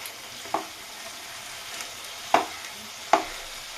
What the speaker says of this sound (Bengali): পাঁচ দশ ধরে এগুলোকে আমি কষিয়ে নেবো